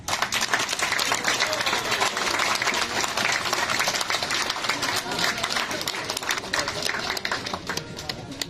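Guests at a captain's party aboard a cruise ship applaud a couple, a dense, continuous patter of many hands that stays steady before easing slightly at the end, with faint voices mixed in.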